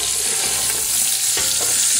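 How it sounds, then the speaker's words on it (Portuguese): Linguiça sausage fries in a pan for feijoada, with a dense, steady, loud sizzle and crackle and a few soft stirring scrapes, and no voices. "Eu coloquei a linguiça agora para fritar"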